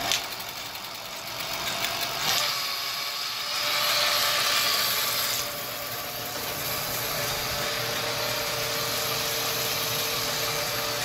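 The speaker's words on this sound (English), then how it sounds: "Give it a quick twist on the throttle." A Bafang BBSHD mid-drive e-bike motor revs briefly under throttle, a steady close-up electric whine with a louder surge in the middle, plus faint mechanical clicking from the drivetrain.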